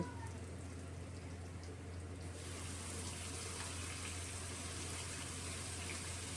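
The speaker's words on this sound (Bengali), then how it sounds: "দিয়ে দেব খুব সামান্য পরিমাণ জল" A small amount of water is poured into spice paste in a wok, making a quiet, steady rushing hiss that runs unbroken through the whole stretch with no talking.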